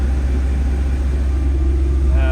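A 1990 Honda CRX engine runs on a dyno, a loud steady low rumble held evenly throughout, with a faint tonal rise at the very end.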